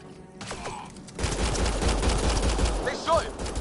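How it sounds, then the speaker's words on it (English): Gunfire in the sci-fi video game Mass Effect Andromeda: after a brief quiet moment, a dense burst of rapid shots erupts and continues for over two seconds, loud and close, with a few sharp whistling tones near the end. "They shot him!"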